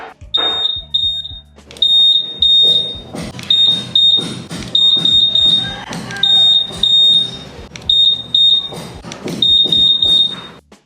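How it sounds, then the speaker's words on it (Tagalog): A Honda ADV 160 answer-back alarm buzzer repeats a rapid patterned series of loud, piercing electronic beeps in short bursts, with mechanical clicks in between, heard close up. "Kung gusto mo namang lakasan ang answer back buzzer,"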